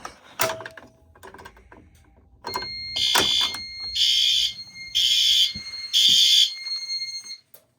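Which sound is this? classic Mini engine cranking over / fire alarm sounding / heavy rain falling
fire alarm sounding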